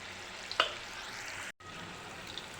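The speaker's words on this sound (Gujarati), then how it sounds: "મીડિયમ ગેસની ફ્લેમ ઉપર આપણે તેને તળી લઈશું" Steady frying hiss of manchurian balls deep-frying in hot oil in a wok over a medium flame, with a brief spatter early on and a short cut in the sound midway.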